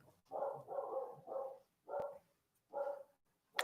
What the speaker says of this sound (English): Oh, you can hear my dog upstairs right now.